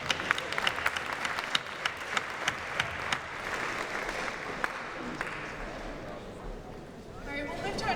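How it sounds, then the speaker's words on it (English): Audience applause at a student-athlete leadership summit, a dense patter of many hands clapping steadily and then tapering, with no voices over it. "Clap it up one more time."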